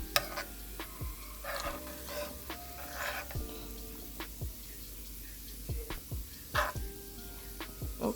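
Garlic sizzles gently in butter on low heat, a soft, steady hiss close by, broken by light scrapes and clinks of stirring.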